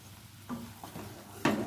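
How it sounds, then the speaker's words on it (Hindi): A spoon stirs banana halwa in hot oil in a pan, giving a few soft scraping strokes over a faint sizzle, with a louder scrape near the end; quiet and close. "जब मुझे लगे कि ऑयल डालना चाहिए तो मैं इसमें ऑयल शामिल कर लूंगी और चम्मच अपना इसी तरह से चलाती रहूंगी।"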